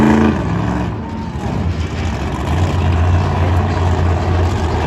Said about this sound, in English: Love the sound of that engine purring before the truck really gets going